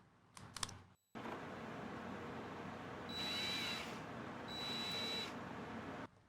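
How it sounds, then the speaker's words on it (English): A power drill turned down to a low setting, used while building a Spirit Ghostbusters proton pack prop. It runs steadily for about five seconds after a short clatter, rising into a brighter whine twice. "I'm going to dial down the settings on this drill here."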